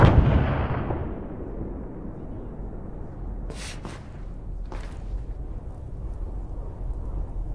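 Artillery fire support explosions in a battle at Mariental, a loud boom that rolls off into a long fading rumble, followed by a couple of sharp distant cracks.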